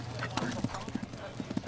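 An event horse gallops cross-country at the Rio 2016 Olympics, its hooves clip-clopping in a quick, steady rhythm close by, with a commentator talking over it.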